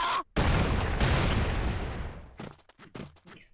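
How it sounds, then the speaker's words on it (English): A loud, sustained explosion blast in the side-scrolling action game Broforce erupts after a brief gap, a roaring burst that decays over about two seconds into scattered smaller pops and crackles. "Explosions"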